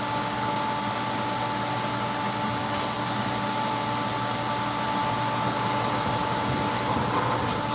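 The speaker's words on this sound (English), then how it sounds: "We're using our squeegee and our rug roller. The rug roller allows us to get a little bit more of that out." A rug roller wringing water out of a freshly washed rug stained with bleeding blue dye and pet urine, heard as a steady, loud mechanical drone that holds unchanged throughout with no talk.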